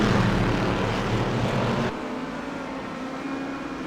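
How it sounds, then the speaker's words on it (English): Corvette race car engines roaring in a sim racing game at Silverstone, a loud continuous broadband engine drone that drops to a steadier, lower level about halfway through, with no talking. "listen to these Corvettes. I absolutely love the sound of these engines"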